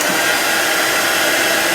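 A hair dryer blows steadily at close range to dry chalk paint on a Halloween sign, a loud, continuous broadband whoosh with no talking.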